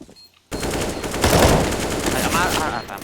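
Rapid video game gunfire bursts loud and close during a smoke-covered room push in a tactical shooter map playtest, continuing dense for about two and a half seconds after a brief quiet start.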